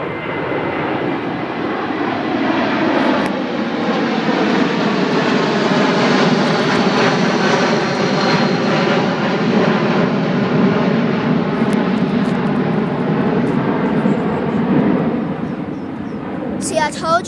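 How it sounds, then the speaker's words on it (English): A Qantas Boeing 747 takes off from runway 19 at Brisbane Airport, its jet engines building to a loud, sustained roar that swells and then slowly fades as it climbs away, with people talking over the noise. "That's the 747, the Qantas."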